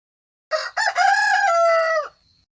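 A single rooster lets out one loud, drawn-out cock-a-doodle-doo, close and alone against silence.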